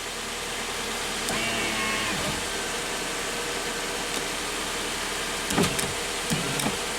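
A Subaru's power window motor whirs in short bursts inside the car, a steady mechanical hum with a few brief clunks as the glass stops, over low cabin background noise.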